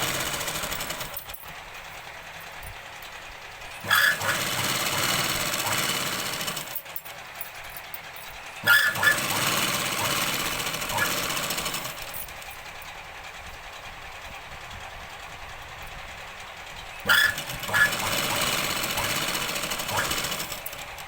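A sewing machine stitches Punjabi dress pants in three loud, steady bursts of several seconds each, with spoken instruction in the quieter gaps between runs.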